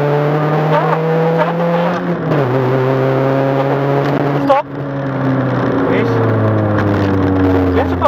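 A rally race car charges around a winter race course, its engine revving hard and dropping sharply through quick gear changes, loud and close from inside the cockpit, with a brief cut and recovery midway.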